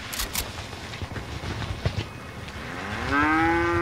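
A young cow in the Fortnite video game lets out a long, loud moo toward the end, over a busy bed of game noise and scattered clicks that comes before it.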